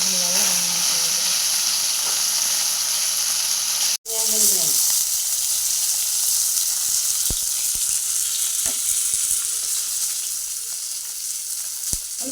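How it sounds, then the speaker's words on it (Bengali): Fish sizzling as it fries in a pan, a loud continuous hiss with crackles and a brief interruption, close up, with occasional faint clinks. "মাছগুলো এবার লাল লাল করে ভাজা হয়েছে"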